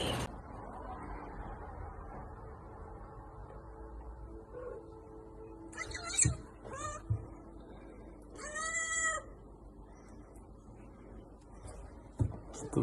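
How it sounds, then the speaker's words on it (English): A cat meows several times, a short call early and then longer drawn-out meows, fairly close in a quiet room with some faint shuffling. "I don't know what this cat wants."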